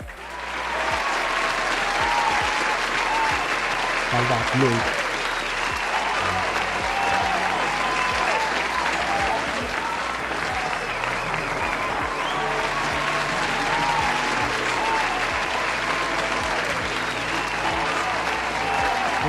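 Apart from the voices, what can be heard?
audience applause for Papa Claude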